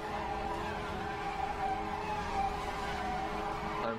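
A green Porsche race car in a racing video game drones along at steady speed, a continuous buzzy engine tone with faint tire noise, held at an even level with no talk.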